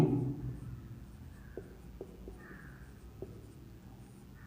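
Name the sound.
writing by hand during a maths lesson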